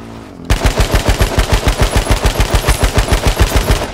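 Video game gunfire breaks a brief quiet into a loud, sustained automatic burst, the shots hammering at a fast, even rhythm for several seconds with no voices.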